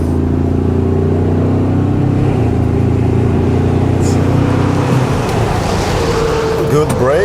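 A Ford Ranger Raptor pickup truck engine drones steadily and loud, then rises in pitch as it accelerates toward the end, with road and wind noise throughout.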